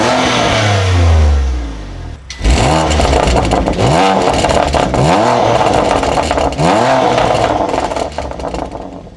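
A BMW M2 Competition on its stock exhaust revs hard several times, a loud close engine climbing and falling in pitch, with a low idle rumble before the first sharp blips.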